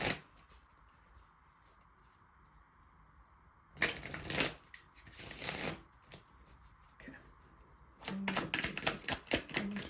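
Tarot cards being shuffled for a reading: soft, papery riffling in two bursts of fluttering slaps, a short one midway and a longer run near the end, close and fairly quiet over a hushed room.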